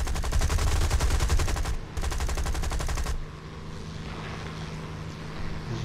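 A .50 cal machine gun fires in War Thunder, two rapid loud bursts separated by a brief gap, then the firing stops, leaving a low aircraft engine drone.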